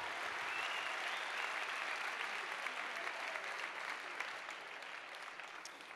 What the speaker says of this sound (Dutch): Dames en heren, een groot applaus voor de eerste keer